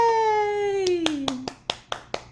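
Several sharp hand claps ring out, about six in an uneven row, after a high sustained vocal tone that slides downward in pitch.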